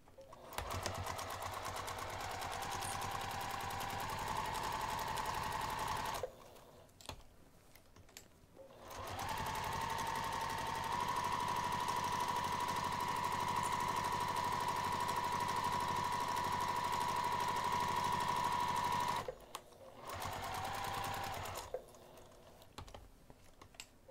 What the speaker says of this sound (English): we're going to sew the sides and the bottom using an 1/8 inch seam allowance.